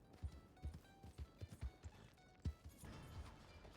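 Horse hooves clip-clopping in a video game, a steady run of hoof thuds, fairly faint and close, with a quiet game backdrop.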